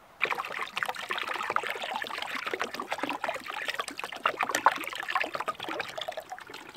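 A gallon of Metal Rescue rust remover is poured into a container, giving a steady close trickling and splashing stream that runs unbroken for several seconds with no talk.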